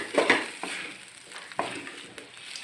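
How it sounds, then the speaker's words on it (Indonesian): Boneless chicken feet fry in a pan with seasoning powder while being stirred, a close sizzle with intermittent scraping stirs and soft clanks of the utensil. "Nah, kita masukkan shaker, aduk lagi semuanya sampai meresap."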